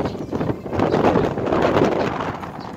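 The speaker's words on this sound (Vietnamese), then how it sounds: "Mấy bạn nghe tiếng gió không?" Strong wind blowing partway up Tao Phung mountain at Vung Tau on the coast, a loud continuous roar buffeting the microphone with gusting surges.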